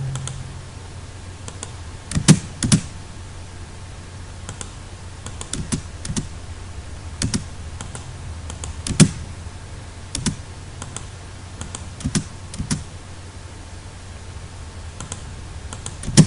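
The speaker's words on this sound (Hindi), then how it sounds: "F8 प्रेस करता हूं, L एंटर करता हूं मैं यहां से" Keys pressed on a computer keyboard while drafting lines in AutoCAD, giving scattered single clicks and short double taps with pauses between, close and fairly soft against a quiet room hum, with no one speaking.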